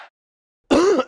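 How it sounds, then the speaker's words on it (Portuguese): A single short, rough cough or throat-clear bursts out close and loud after a moment of silence. "quando você tosse, a sua própria tosse, ela produz secreções que podem ser engolidas novamente"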